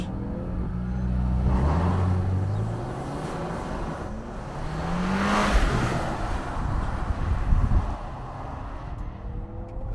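Lexus TX550 with 366 horsepower launching hard for a 0-60 run, heard from inside the cabin as a steady engine surge rising in pitch through shifts, with wind and road noise building behind it.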